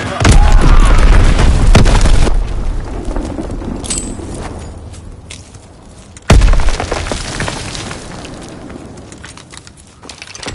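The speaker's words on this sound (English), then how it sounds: "Incoming enemy artillery!" Heavy incoming artillery explosions in the World War II shooter Call of Duty WW2, two loud close booms several seconds apart, each decaying into a rumbling tail with crackling debris, and no voices.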